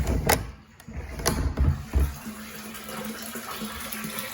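Water pours into a tank of an off-grid gravity-fed hot water system at a cabin, a steady splashing fill with a few knocks and clunks at the start, then a faint tonal hum.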